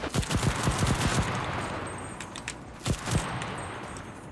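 Rapid bursts of video game gunfire, a cluster of sharp cracks at the start, then scattered shots and a second quick burst near the end.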